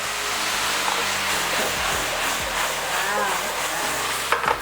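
A sauce of lemon juice, olive oil and chilies cooking down in a pan, a constant sizzling hiss under a background hum, with a few louder clinks near the end and murmuring voices mixed in.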